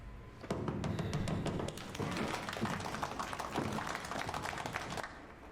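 A room of comrades at a Chernobyl committee meeting breaks into sustained applause, many hands clapping in a dense, uneven patter that continues steadily for several seconds.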